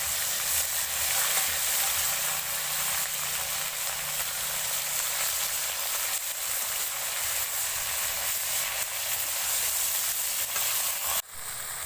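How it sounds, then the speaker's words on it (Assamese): Potatoes frying with turmeric and bay leaf in hot oil give a steady, loud, close-up sizzle that hisses continuously throughout with no voices. "আৰু এতিয়া মই এইখিনি ভালদৰে ফ্ৰাই কৰি ল'ম"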